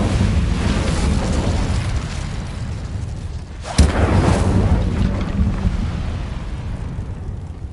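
An Incendio fire spell cast in the Hogwarts Legacy video game: a roaring whoosh of rushing flame with a sharp burst midway, then a fading rumble, loud and alone.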